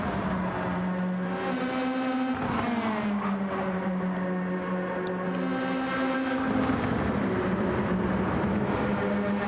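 Toyota Supra race car engine in Gran Turismo 7, racing at Trial Mountain, holding a loud, steady high-pitched drone with gear changes and rising and falling revs throughout, no talking.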